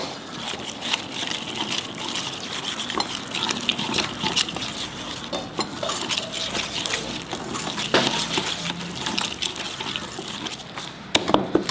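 Water pours steadily into a fish marinade made with half a lime for fish fingers, a continuous close gushing and trickling fill lasting about eleven seconds, with a few small knocks near the end and no talk.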